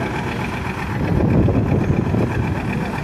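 Vintage 1952 John Deere Model R tractor engine idling steadily with a low, throbbing rumble at a tractor pull, fairly close and continuous, swelling slightly midway.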